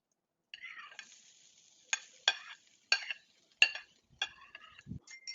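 Chopped onion goes into hot ghee with whole garam masala and bay leaf in a pan, giving a soft sizzle broken by sharp metallic clinks and scrapes of a spoon stirring, fairly close and quiet.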